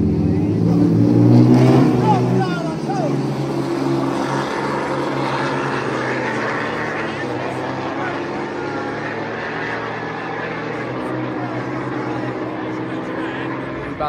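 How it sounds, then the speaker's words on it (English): A donk car with a Cadillac CTS-V engine rumbles loudly at a street race, its engine droning and revving nearby for a long stretch while people talk over it. "It's the CTSV motor."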